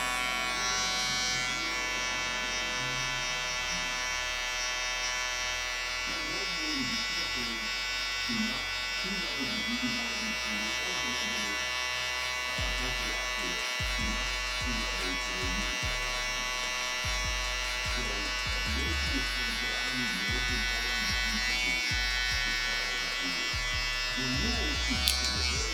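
Electric hair clippers buzz steadily through a taper haircut in a home garage, a constant close whine with the blade lever being adjusted while someone talks over it.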